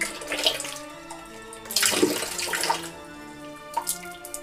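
Shaving brush dunked into water several times, giving a few close, splashy swishes and drips with tap-like water noise in a quiet room.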